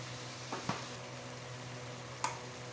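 Spice masala with yogurt, turmeric, cumin and coriander powder stir-fried in a pan for lau pata paturi, a soft steady sizzle with two or three sharp spoon knocks against the pan, close and fairly quiet.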